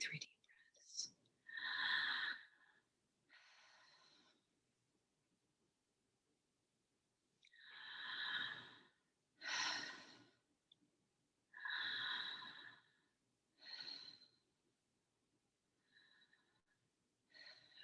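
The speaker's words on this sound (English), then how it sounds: "Take 3 deep breaths." Deep breathing, slow and close, with about half a dozen long, airy inhales and exhales separated by quiet pauses, soft and breathy like whispering.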